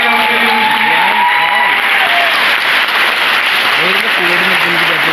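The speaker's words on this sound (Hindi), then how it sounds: "मैं चाहूंगा एक बार जोरदार तालियां उनके लिए" Loud, dense applause from an audience filling a hall for a remembered friend, Mr. Rizwan Khan, continuous and unbroken throughout, with a voice speaking faintly under it.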